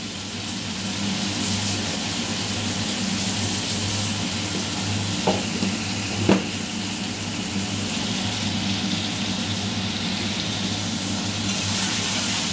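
Steady sizzling of curry being stir-fried in oil, with a couple of brief scraping knocks of a spoon stirring, no voices.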